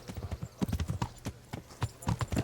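Horses clip-clopping through a street in Kingdom Come: Deliverance, irregular hoof clops on hard ground at close range, loud and uneven, with a faint murmur of other sounds beneath.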